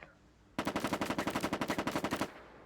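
A rifle fires in a video game, a rapid burst of about twenty evenly spaced shots lasting under two seconds, sharp and close, with quiet before and after.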